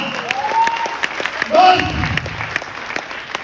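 Audience applause at a business gathering, with scattered sharp claps spread through the room, some cheering and voices mixed in, swelling briefly midway.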